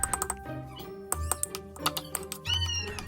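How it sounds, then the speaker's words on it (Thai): Garlic cloves are slapped and smashed with a flat knife blade on a cutting board while pork ribs are prepared for fermented nam, giving a handful of sharp, close, loud impacts with short gaps between them. "ตบๆแบบนี้นะ"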